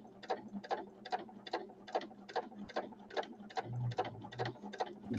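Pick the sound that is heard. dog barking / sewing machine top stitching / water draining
sewing machine top stitching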